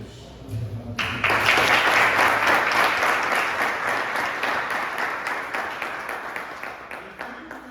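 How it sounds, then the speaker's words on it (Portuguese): A church congregation at a theological conference bursts into sustained applause for a pastor after a brief murmur, the steady, dense clapping filling the room and holding evenly for several seconds before easing slightly. "que a igreja possa recebê-lo também com as palmas no nome de Jesus"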